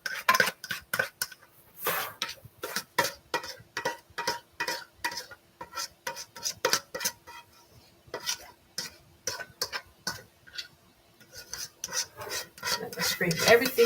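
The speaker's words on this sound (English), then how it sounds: "So we're gonna add them together now and mix them in." A utensil mixes and scrapes a cream cheese and condensed milk mixture into banana pudding in a bowl, producing close, rhythmic scraping and tapping strokes at a steady pace with short gaps and no talk.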